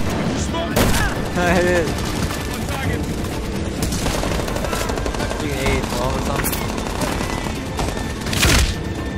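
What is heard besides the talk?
shotgun firing in Medal of Honor Warfighter video game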